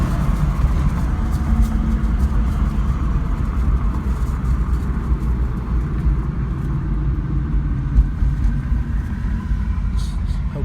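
A 1997 Camaro Z/28 with a rebuilt V8 engine drives along, a steady deep rumbling drone heard from inside the car, continuous and fairly loud throughout.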